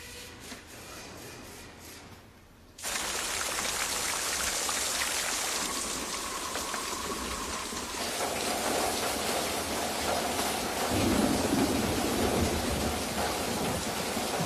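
A storm brings heavy, dense rainfall that swells suddenly and keeps up a constant roar, with low rumbles of thunder beneath it and no voices.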